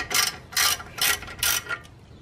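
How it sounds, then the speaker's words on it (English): A ratchet wrench tightens 18mm brake caliper bracket bolts on a 2007 Cadillac Escalade, four quick, close bursts of ratcheting clicks separated by short pauses, with a faint fifth stroke at the end. "Now we tighten the 18mm bracket bolts."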